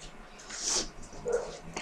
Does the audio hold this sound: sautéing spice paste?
no